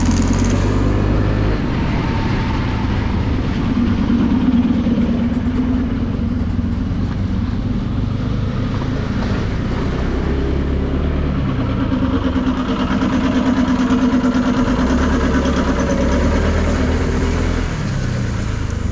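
A 2022 Honda PCX160 scooter engine runs steadily at a low idle-like drone, close and continuous for the whole stretch with no talk over it.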